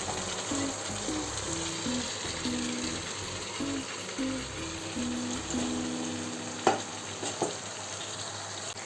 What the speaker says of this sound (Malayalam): ഇനി ഇതിലേക്ക് വേവിച്ച് വെച്ച ബീഫ് ചേർക്കാം കേട്ടോ